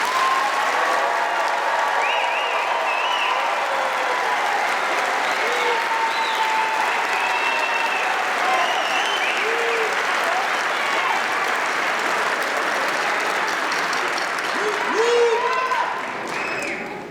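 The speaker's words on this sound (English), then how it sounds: "Will the audience join me in a resounding and deserved applause for each of the graduates" Graduation ceremony audience at Kalamazoo Valley Community College giving sustained, even applause that fills the hall for the full length, dense clapping with a few scattered cheers near the end.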